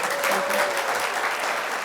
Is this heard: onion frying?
no